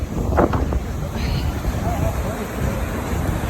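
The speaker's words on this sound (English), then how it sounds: "Oh my god, it's so windy here." Constant wind rumbling against the microphone at Emerald Lake near Takakkaw Falls, British Columbia, a low roar throughout with a few faint bird-like chirps in the middle.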